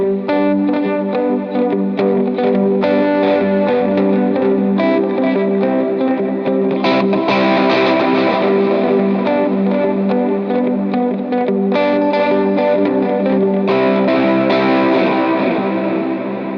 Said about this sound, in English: I just fretted out the chords and then kind of picked between the different strings just to kind of get that galloping sound.